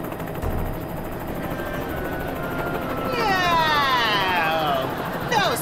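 Steady helicopter rotor drone fills the clip, with a wavering siren-like whine rising over it near the end.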